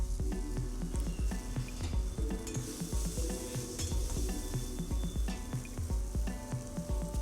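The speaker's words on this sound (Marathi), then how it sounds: "कांदा पण आपल्याला असा थोडासा लालसर भाजून घ्यायचा" Sliced onion sizzles and crackles in a hot pan while it browns for a spicy shev bhaji, with a steady frying hiss and repeated scraping stirs of a spoon against the pan.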